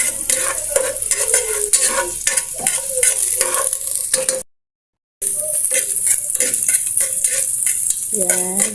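Ginger sautéing in cooking oil previously used for frying tofu, a steady close sizzle with repeated stirring scrapes of a utensil against the pan, briefly cutting out midway before resuming.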